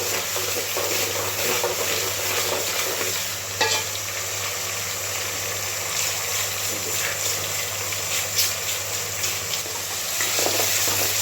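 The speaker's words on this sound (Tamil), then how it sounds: "நல்லா வதக்கியாச்சு, நல்லா வதங்கிருச்சு" Ingredients sautéing in a pan for fish curry, a continuous broad sizzle with occasional stirring scrapes and knocks over a steady low hum, close and moderately loud.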